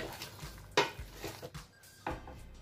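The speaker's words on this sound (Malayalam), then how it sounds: "മസാല ഒന്ന് ഇളക്കി കൊടുക്കട്ടെ കേട്ടോ." Chicken dum biryani masala is stirred in a pot after the heat is switched off, with quiet scraping and a few sharp utensil clinks against the metal at intervals.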